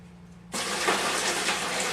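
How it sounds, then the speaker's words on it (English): Water gushing into a decorative rock fountain, starting abruptly after a quiet moment and then pouring steadily with a full, splashing rush, close and continuous. "Now it's time to start adding the water."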